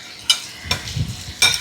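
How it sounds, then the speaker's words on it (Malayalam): Fried prawns stirred into a sizzling masala in a pan, with a few sharp spatula scrapes and a low frying hiss; close and loud, with no talking. "ഇതിലേക്കാണ് നമ്മുടെ വറുത്ത് വെച്ചിരിക്കുന്ന പ്രോൺസിനെ ചേർക്കാം."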